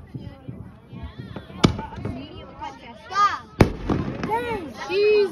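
Sharp firework bangs and pops at a beach, two especially loud cracks, mixed with excited voices talking and exclaiming throughout.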